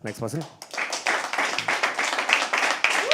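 Audience at a live poetry open mic at The Habitat applauding as the next poet walks up, brisk clapping that starts after a brief voice and continues in uneven bursts.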